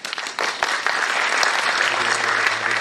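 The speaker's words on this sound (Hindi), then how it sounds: "अभी आपने तालियां बजाया" A lecture audience bursts into applause, a steady, fairly loud wash of clapping with a few sharper individual claps near the start.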